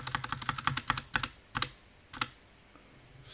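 Keys clatter on a computer keyboard as text is entered into a thumbnail design in Adobe Premiere Pro 2020, a quick run of close taps followed by a few separate keystrokes, then quiet.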